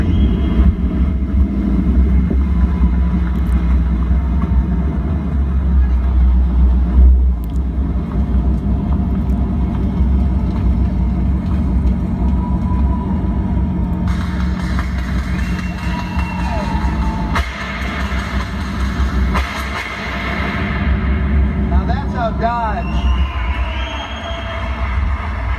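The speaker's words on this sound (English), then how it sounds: "That's how Dodge makes an entrance. This is the new Dodge Challenger SRT Demon." A Dodge Challenger SRT Demon makes its reveal entrance as a continuous heavy low rumble, loud and steady, under crowd noise and a faint voice, with a few brief higher tones and warbling sounds near the end.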